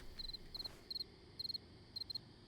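Crickets chirp as ambient sound in a wildlife photography video game, giving steady, high, short trilling bursts in groups of three over a quiet background with no speech.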